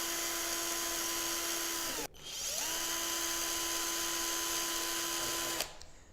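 Electric screwdriver multi-tool running, a steady high motor whine that cuts off briefly, then spins back up and runs again before stopping, close and fairly quiet.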